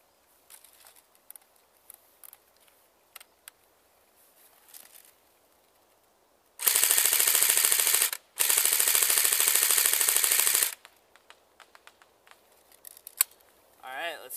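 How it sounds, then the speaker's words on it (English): An AK-47 RIS rifle fires on fully automatic in two long, dense bursts separated by a brief pause, loud and sustained, with scattered small clicks and handling noises before and after. "But we'll see what it does on fully automatic, and we'll see if we can hit the target."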